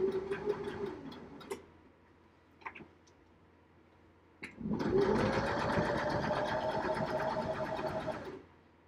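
A sewing machine runs through a decorative stitch design, a rapid rhythmic clattering whir that starts after a few scattered clicks and runs steadily for about four seconds before stopping.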